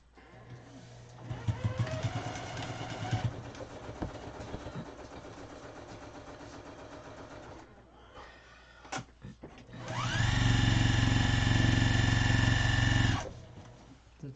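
A sewing machine motor runs while a pineapple-pattern quilt is being finished: short whirring bursts early on, then a loud, steady, close drone for a few seconds before it stops.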